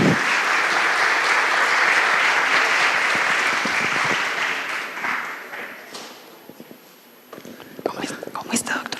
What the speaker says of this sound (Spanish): recibamos con un fuerte aplauso al señor ministro